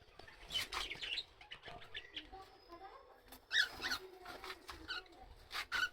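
Cockatiel giving repeated short chirping calls in bursts, fairly faint, over a quiet room background with a few soft rustles.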